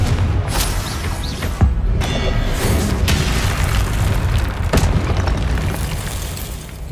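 Confringo spell explosions in the video game Hogwarts Legacy, loud repeated booms and bursts with mechanical creaks and rumbling, dense and close throughout with no talking.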